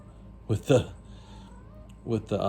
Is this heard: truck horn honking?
no